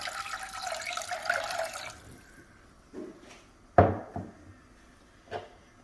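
Water poured into a small Dutch oven: a broad running splash for about two seconds, then a few separate splashes and drips, fairly close and moderate.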